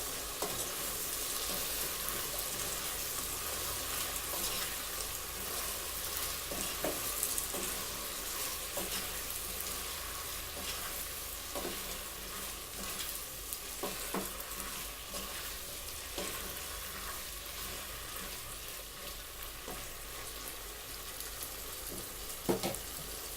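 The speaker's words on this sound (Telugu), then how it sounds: "ఒకసారి నీట్గా కలిపేసుకుందాము" Okra and tomato pieces, with potato, are stirred in a frying pan over a steady, moderate sizzle, with occasional scrapes of the spoon against the pan.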